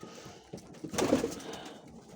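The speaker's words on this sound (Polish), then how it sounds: "W każdym razie jedzą tam gołąbki. Fajne ptaszki to są." Pigeons coo softly nearby in a few low, throaty bursts, with faint background rustling.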